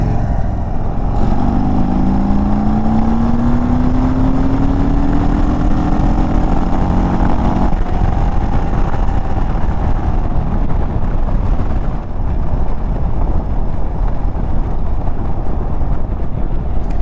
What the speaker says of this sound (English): stock pipes always sound like crap,